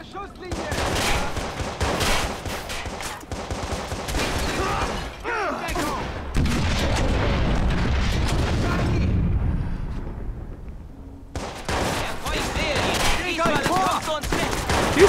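Rapid bursts of gunfire and explosions in the video game Watch Dogs, loud and dense in repeated volleys with a brief lull near the end before shooting resumes.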